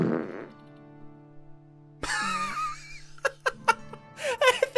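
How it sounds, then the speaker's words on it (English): A cartoonish fart sound effect plays over TerraTech gameplay, a few short bursts after a quiet stretch, with laughter-like sounds and game effects mixed in. "Russell, do a fart sound whenever that thing popped out."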